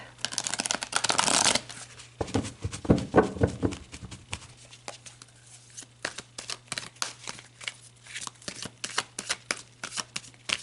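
A deck of tarot cards being shuffled by hand: a dense riffle burst at the start, then a run of crisp, close card flicks and slaps repeating at an uneven pace, with a steady low hum underneath and no talking.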